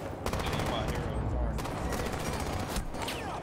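Gunfire in Valorant, rapid bursts of shots rattling continuously at close range, with players talking over the shooting.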